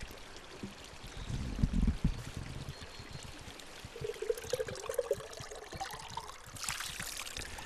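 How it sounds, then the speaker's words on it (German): Spring water pours and trickles into carried containers at the Kunnersdorfer Röhre spring, decorated for Easter, with a brief louder splash early on and uneven dribbling afterward, fairly faint against outdoor background. "Es wurde sich gewaschen und Wasser in mitgebrachte Gefäße abgefüllt."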